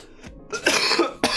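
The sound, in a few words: cough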